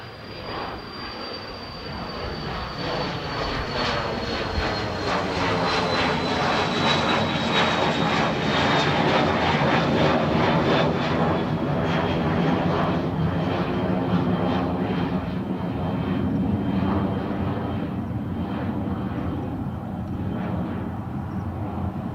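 A Lufthansa jet lines up on runway 28 right at Dublin Airport, its engines producing a loud, continuous roar with a high whine that slowly falls in pitch, steady throughout with no talk.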